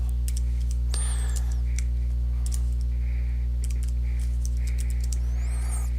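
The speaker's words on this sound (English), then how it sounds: "right here you're going to type in your name" Computer keys are tapped in short, irregular clusters as a name is typed, close and moderately quiet over a constant low electrical hum, with no speech.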